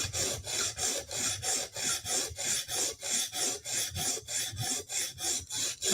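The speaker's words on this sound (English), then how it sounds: "we're done with the 150 grit stone" A blade is drawn back and forth across a 150 grit Hapstone sharpening stone in steady, even strokes, a close rhythmic rasping scrape repeating about every third of a second with no talk.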